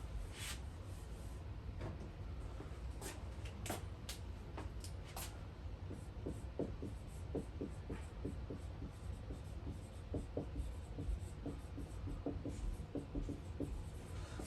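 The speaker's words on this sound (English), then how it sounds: "I'm going to draw this somewhere else." Marker or pen scratching across a board while a nursing instructor draws a diagram, a steady run of short squeaky strokes and taps, close and moderately quiet, without speech.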